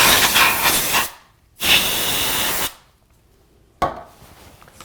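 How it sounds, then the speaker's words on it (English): Two sustained bursts of compressed air sprayed into a smoke and carbon monoxide alarm, broad hiss, each about a second long, then a shorter third burst after a pause. "it's easy to use compressed air for keyboards. All you do is you spray all inside here"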